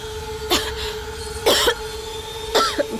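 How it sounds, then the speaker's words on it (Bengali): Three separate harsh coughs, each a short burst about a second apart, from one person close by in a quiet indoor room, with no talk in between. "নিজের অবস্থা দেখো, কি কাশি হচ্ছে তোমার।"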